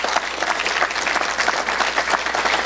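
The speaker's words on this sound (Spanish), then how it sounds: "Sí, le puedo dar un aplauso a Dios." A church congregation applauds during a sermon, dense steady clapping from a full room that holds loud and even for the whole stretch with no talk over it.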